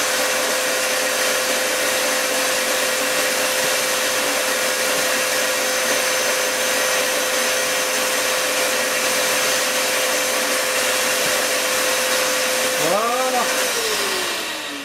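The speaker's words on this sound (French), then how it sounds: "Alors maintenant, petit coup d'aspirateur." Vacuum cleaner running continuously while cleaning an HO scale model railway layout, a loud steady whining drone with a constant tone that shifts in pitch briefly near the end.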